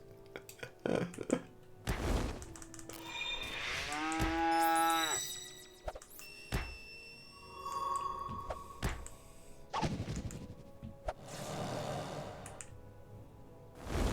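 A cow moos in the online role-playing game Project Gorgon, with a cow druid character, mixed with game effects such as thunks and tonal chimes, no talk heard.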